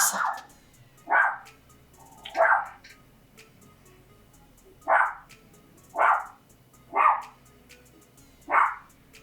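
Several dogs bark in a home, seven separate bark bursts spaced a second or so apart, fairly loud and close, with no talking over them.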